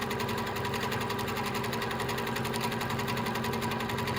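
A sewing machine doing free-motion quilting of doodle filler designs runs nonstop at a fast, even stitching rhythm. The mechanical chatter is loud and close, with no talking over it.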